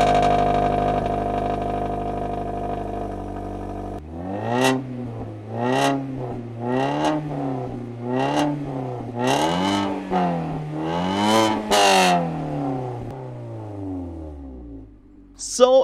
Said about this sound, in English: right now with the Mazda Speed mid-pipe and the catless headers, it sounds pretty raspy to say the least.